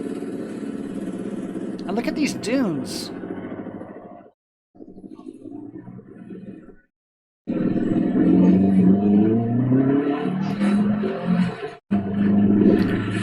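A street-legal two-seat VW sand car engine runs with a steady, smooth rumble, briefly cutting out twice before resuming strongly, while a person speaks over it.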